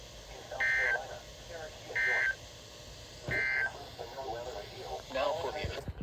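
A NOAA Weather Radio All Hazards tone alert test from Charlotte, North Carolina: three short, loud, steady electronic tone bursts about a second apart, followed by a faint voice and broadcast noise.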